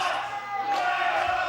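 A wrestling crowd at a UCW-Zero event reacts loudly to Guerrero Azteca with a sustained, chant-like roar of many voices, filling the short moment without pause.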